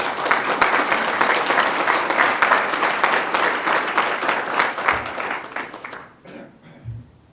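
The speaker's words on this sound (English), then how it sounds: "So I appreciate the applause," Conference audience applauding loudly and steadily for about six seconds, then the clapping thins out and fades, with a brief murmur near the end.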